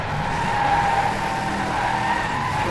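Steady, sustained tire skid from a car thrown sideways on the handbrake in the racing game Driveclub, a continuous loud screech with engine noise underneath and no pauses.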